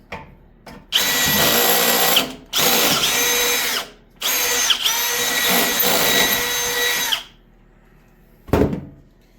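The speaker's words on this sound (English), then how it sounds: "I'll put that in the walked bits in the Milwaukee drill." A Milwaukee power drill runs in several loud, close bursts of high whine, three long runs separated by brief pauses, then a short final blip, with no talk.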